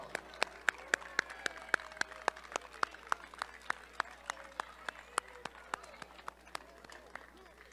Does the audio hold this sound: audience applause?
yes